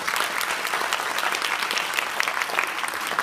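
A room full of youth leaders and parents at a swearing-in ceremony gives a round of applause, steady dense clapping holding evenly for over three seconds with no voices on top.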